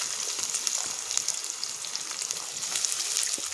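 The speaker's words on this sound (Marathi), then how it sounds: "पहा आता कांदा टाकत आहे." Onion frying in oil with cumin and mustard seeds, a bright continuous sizzle with crackling pops, close and steady with no talking.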